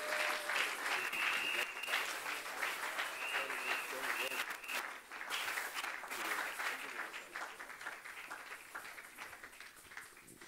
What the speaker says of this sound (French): nous allons acclamer l'homme de Dieu, l'apôtre Lévi Mbuta Sangopamba